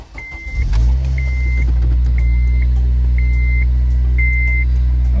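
A 2008 Honda Civic Si engine, freshly fitted with new spark plugs, cranks briefly and catches, then settles into a loud, steady close-up idle while a repeating electronic beep chimes about once a second.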